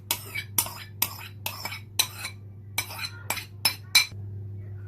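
A utensil clinks against a bowl in a steady series of sharp taps, about nine strikes in five seconds, as yogurt and spices are mixed for samosa chaat. A low hum runs underneath and no one speaks.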